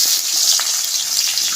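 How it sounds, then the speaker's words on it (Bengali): Radhuni seeds and dried red chillies spit and sizzle in hot oil for a village-style Bengali curry, a steady, loud, close hiss with no talking. "এই তেলের ভিতর দিয়ে দেব রাঁধুনি আর শুকনো লঙ্কা ফোড়ন"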